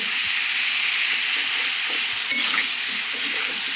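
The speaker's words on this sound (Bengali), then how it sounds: "তেলের মধ্যে আদা রসুন সব একবারে দিয়ে" Ginger and garlic sizzle steadily in hot oil for a papaya curry while a spoon stirs them, giving a constant close frying hiss with a few soft scraping knocks and no voices.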